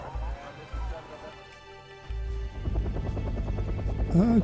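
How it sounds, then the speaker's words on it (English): Helicopter rotor thumping from low-flying helicopters builds in the background of Wargame: European Escalation game sounds, growing louder and choppier toward the end. "Okay, got some low-level helicopters there."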